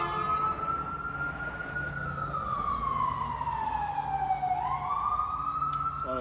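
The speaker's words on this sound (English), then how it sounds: "Slowest moving ambulance I've ever seen." An ambulance siren wails steadily and sweeps down in pitch as it passes slowly by a garage during bumper work on a TE51 Corolla, loud and continuous over the whole stretch, with workshop hum beneath.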